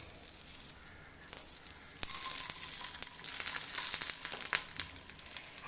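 Bilimbi fruit sizzles in coconut oil in a hot pan, a constant crackling fry with scattered sharp pops and brief stirring scrapes, close and moderately loud.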